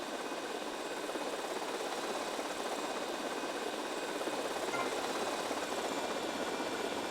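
Helicopter engine in the video game GTA Vice City, a continuous steady whirring roar with a broad hiss, even in level throughout and without talk.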